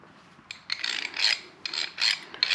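A thread file is worked back and forth along bolt threads to clear out gunk, producing rhythmic raspy scraping strokes in short bursts, close and moderately loud with no talking.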